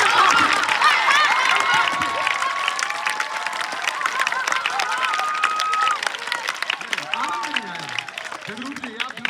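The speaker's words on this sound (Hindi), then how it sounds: "मैं आपसे बच्चों से निवेदन करूंगा एक बार कि खूब जोर से हंस करके किशन जी के लिए तालियां बजाओ" Schoolchildren at a farewell event clap loudly and continuously for a departing teacher, a dense roar of applause with cheering voices and crowd chatter mixed throughout.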